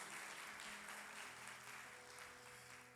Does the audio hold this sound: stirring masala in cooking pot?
no